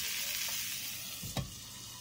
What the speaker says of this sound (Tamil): திருப்பி போட்டு இது மறுபடியும் இன்னொரு 5 நிமிஷம் வேக வெச்சிருங்க